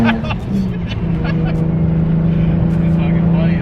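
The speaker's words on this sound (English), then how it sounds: "I just wanted you to hear the turbo a little bit." A turbocharged Nissan 350Z pulls under throttle from inside the cabin, a steady low engine drone with rising harmonics and a faint turbo whine, while people talk over it.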